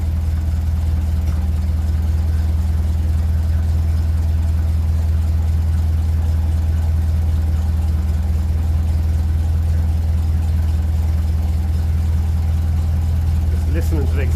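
A 1957 Ferguson 35 TVO tractor engine runs steadily at close range with a deep, constant low rumble, occasional faint exhaust pops, and a brief sharper burst near the end.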